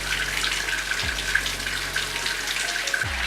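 Tap water runs steadily into a container to submerge an RGB submersible LED light, a continuous close splashing rush with a faint hum underneath, no voices.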